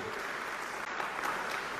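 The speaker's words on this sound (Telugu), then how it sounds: "చప్పట్లు గట్టి కొడదామా?" A church congregation applauds during a sermon, a brief, even burst of many hands clapping at moderate distance with no break.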